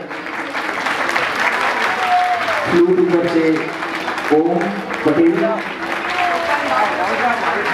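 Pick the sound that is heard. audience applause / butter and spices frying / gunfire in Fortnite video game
audience applause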